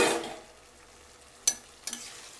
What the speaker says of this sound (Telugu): గుజ్జంతా ఇంకిపోయేదాకా ఉడకబెట్టుకోవాలి.